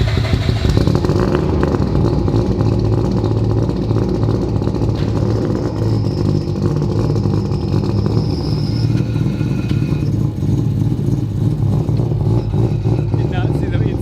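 A Mazda RX-7 three-rotor engine runs hard on a dyno at high boost, a loud, steady, dense engine roar that holds throughout with little variation and a rasping, clattering edge.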